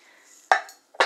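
Diced bacon dropped into a pot: two short, sharp clattering impacts about half a second apart, close and fairly quiet, with silence between.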